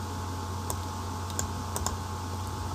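A few quiet computer keyboard clicks sound during a cut shortcut, scattered over a low steady hum.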